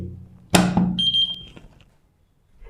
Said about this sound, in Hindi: जैसे ही आप बैटरी को अंदर फिट करेंगे तो एक बीप का साउंड आएगा